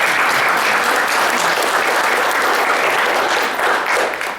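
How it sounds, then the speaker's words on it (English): A conference audience gives a sustained round of applause for a guest's mother, steady and full throughout, dipping slightly near the end. "we can give her a round of applause"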